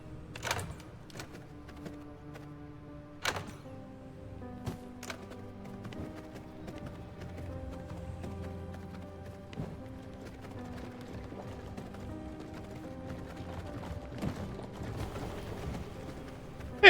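Horse hooves clip-clop in the V Rising video game, a steady rhythmic trotting that runs on under soft game music, with occasional sharper clacks and no speech.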